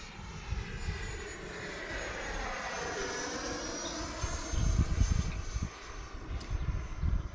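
An FMS 80mm Rafale RC model jet flies overhead, its ducted-fan whine rising and falling in pitch as it passes, with a steady rushing roar that swells slightly toward the end.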